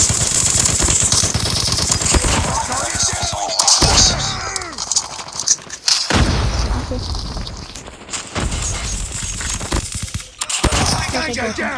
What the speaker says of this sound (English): I got the minigun, I'm not sure if I should use it